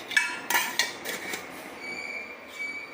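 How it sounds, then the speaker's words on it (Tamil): A metal lid set down on a cooking pot while making oil-free chicken fry, giving a few sharp clanks close by, followed by a faint lingering metallic ring and low room noise. "மூடி வச்சிடலாம்"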